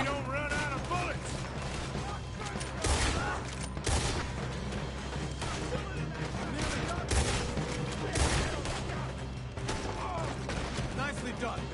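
Red Dead Redemption II gunfight during a robbery, with repeated gunshots cracking in bursts over background game sound, while voices talk over the shooting.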